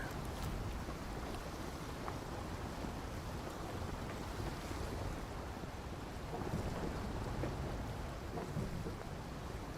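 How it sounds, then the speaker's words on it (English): Low rolling thunder rumbles on and on in the Arcane Odyssey video game, faint and broad like a distant storm at sea, blended with wind and rain-like noise and no clear pauses. "Thunder."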